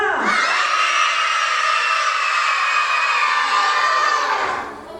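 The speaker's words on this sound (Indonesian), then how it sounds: "Yuk coba mulutnya buat teriak yang kenceng banget." A crowd of children at an Indonesian storytelling session shouts loudly together in one long sustained yell that fades out at the end.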